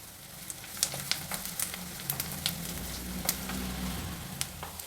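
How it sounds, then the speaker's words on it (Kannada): Onions and green chillies frying in oil in a pan for seasoned rice, with a continuous crackling sizzle and sharp spattering pops, close and steady without talk. "ಈರುಳ್ಳಿ ಮೆಣಸಿನ್ಕಾಯಿ ಎಲ್ಲ ಚೆನ್ನಾಗಿ ಬಾಡ್ತಾ ಇದೆ"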